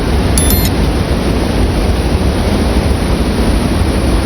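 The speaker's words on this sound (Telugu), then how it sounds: "చూడండి మొత్తం ఫాగ్లాగా వచ్చేస్తున్నాయి చూడండి వాటర్ కిందకి పడి పైనుంచి" Athirappilly waterfall in Kerala crashes down and throws up mist, a loud, steady, unbroken roar of rushing water heard up close with no pauses.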